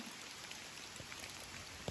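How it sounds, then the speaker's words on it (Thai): Heavy rain falling near a forest dwelling, a steady, dense hiss of drops with occasional closer patters, quiet and continuous with no voices. "รู้ว่าฝนตกวันนี้"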